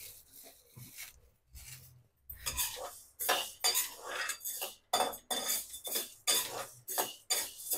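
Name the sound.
stirring urad dal roasting in a pan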